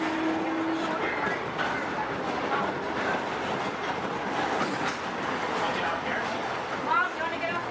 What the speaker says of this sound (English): until the train comes to a complete stop